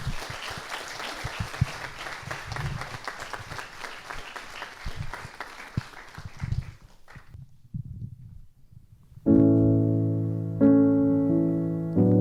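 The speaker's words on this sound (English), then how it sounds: "Please give a round of applause for Orla." An audience claps in a steady burst of applause for about seven seconds before it fades, and then loud sustained music begins.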